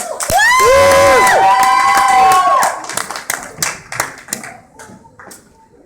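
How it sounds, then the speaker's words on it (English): Loud cheering and whooping from a stand-up comedy audience, followed by scattered clapping that trails off. "give him a round of applause from here"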